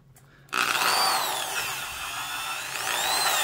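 A Metabo/Hitachi 800 watt 3/8 inch corded drill starts suddenly and runs at full speed with a loud, steady motor whine and a faint gear hum, the pitch wavering slightly, close and alone.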